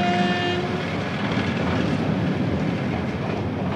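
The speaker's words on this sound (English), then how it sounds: "the first mainline express sets out from Norwich, bound for Liverpool Street" A mainline express train leaving Norwich for Liverpool Street crosses the new Trowse Swing Bridge, a steady loud rumble with clattering wheels and a brief horn tone at the start.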